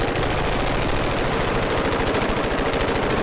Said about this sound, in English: At the minute they're firing lots of rounds